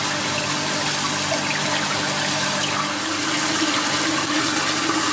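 Water flowing from a trickle filter back into the moving bed of a garden pond under construction, a loud, continuous gushing rush that holds steady throughout.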